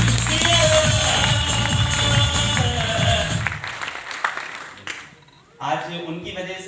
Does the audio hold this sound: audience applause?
yes